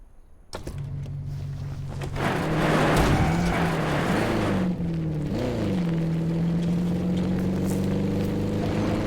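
A four-wheeler in a video game starts up and drives, a steady engine drone whose pitch wobbles up and down while accelerating, then settles into an even hum, loud and continuous.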